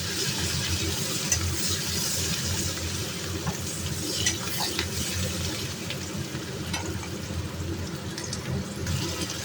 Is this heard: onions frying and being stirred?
yes